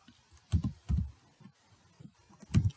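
Computer keys are typed in short irregular taps, a handful of soft, close keystrokes with gaps between them and no talk.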